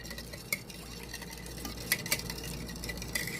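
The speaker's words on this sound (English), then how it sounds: "So just mix all that up really good." Salad ingredients mixed in a bowl, heard as soft continuous stirring with a few sharp clinks of a utensil against the bowl, close and fairly quiet, with no speech.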